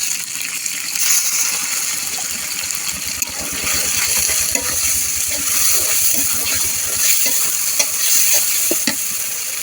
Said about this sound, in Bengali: দিয়ে দিলাম তেলের উপরে, দেব লবণ, হলুদ, শুকনো মরিচের গুঁড়া, জিরা, রসুন আর হচ্ছে পেঁয়াজ বাটা